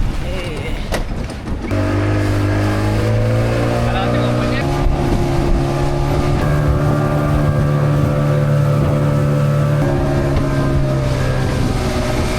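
A small motorboat crosses a river in Bandar Seri Begawan, Brunei, toward the Kampong Ayer floating village, its engine droning steadily and loudly close by, with wind buffeting the microphone and a voice talking briefly near the start.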